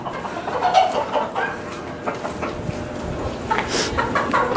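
Chickens cluck and a rooster calls amid a busy coop in Acapulco, Mexico, several birds overlapping at moderate distance with steady background noise.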